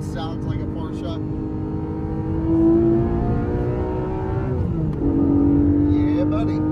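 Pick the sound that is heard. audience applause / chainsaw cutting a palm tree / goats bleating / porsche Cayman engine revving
porsche Cayman engine revving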